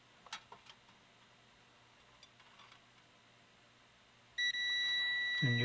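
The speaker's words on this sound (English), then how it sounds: "And you'll be able to hear the tone even though you might not see the meter." A multimeter set to continuity on a Universal Model 15 UG 17 waffle iron gives a steady high electronic beep that starts suddenly and holds. A few small clicks come first as the probes are handled.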